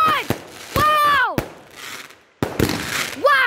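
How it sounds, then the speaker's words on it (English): Canada Day fireworks burst with several sharp, loud bangs close by, while excited voices exclaim between the explosions. "Canada Day fireworks!"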